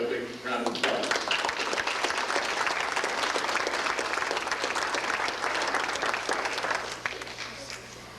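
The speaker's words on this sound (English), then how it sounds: "Let's have a big round of applause." An audience at a 1988 Eagle Scout Court of Honor breaks into sustained, loud applause lasting several seconds before fading, with a voice speaking near the start.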